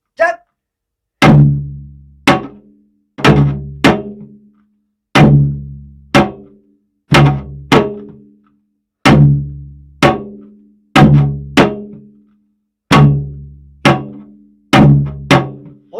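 Janggu drum strokes playing the Korean taryeong rhythm in a steady, measured pattern, deep booming hits alternating with sharp cracking slaps, each ringing briefly before the next, played alone.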